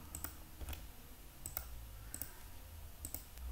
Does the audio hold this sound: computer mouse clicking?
yes